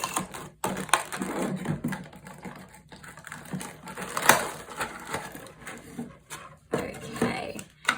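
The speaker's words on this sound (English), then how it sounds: "my favourite part of the unboxing, which is popping the plastic" Crackly pops and snaps of plastic blister packaging being pressed and broken while Nintendo amiibo figures are unboxed, sounding close and irregular, with a few sharper bursts among the steady crinkling.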